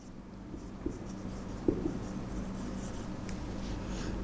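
Chalk or marker writes on a classroom board in steady, close scratchy strokes with a couple of sharper taps, over a low room hum.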